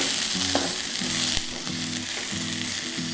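Vegetables for a vegetable upma fry in a pan, with a steady sizzle broken by repeated scraping stirs of a spatula about every half second, close and fairly loud with no voices.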